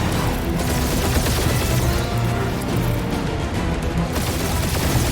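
Dense, continuous gunfire and explosive crashes in the Guardians of the Galaxy video game, a loud sustained barrage without pauses.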